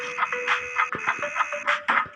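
Electronic alarm clock tones in a game, repeating bursts of bright beeping and chiming over a steady synthetic hum, with quick thumps between.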